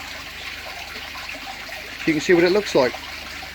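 Water poured and trickling through tubing in a homemade acrylic aquarium setup, a soft running flow with a brief louder gurgling burst toward the end, someone speaking over it.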